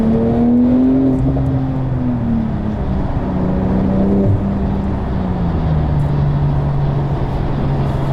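A 2021 Porsche 992 911 Turbo S pulls hard through the gears, its engine loud and near, the tone rising, dropping at a shift, then climbing again under constant road noise.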